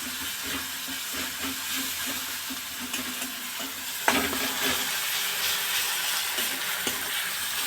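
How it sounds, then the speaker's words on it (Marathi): Crushed green chilli thecha sautés in hot oil for a tomato chutney, making a dense, continuous sizzle up close. Rhythmic stirring scrapes repeat throughout, with one sharper clatter midway. "भरपूर असा हा मिरचीचा ठेचा टाकायचा या तेलामध्ये आणि चांगला परतून घ्यायचा आहे"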